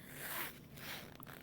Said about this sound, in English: And then you can unzip that.